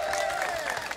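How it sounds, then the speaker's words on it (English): Concert audience applauds and cheers for a performer, a short dense burst of clapping and crowd noise, with a high voice calling out over it. "So we did one applause for Aaron already, right? Can we do a second one?"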